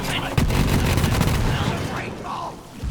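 Flakker shotgun blasts and explosions in Borderlands 3 gameplay, a dense run of booming, crackling detonations with continuous heavy low rumble, loud and close, thinning out near the end.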